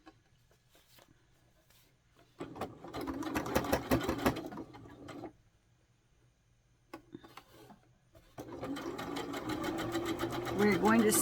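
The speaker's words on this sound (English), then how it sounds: "we're going to sew up the back seam allowance" Sewing machine stitching the back seam of a small doll's skirt with rickrack trim, two close bursts of rapid mechanical whirring separated by quiet pauses, with faint handling noises between.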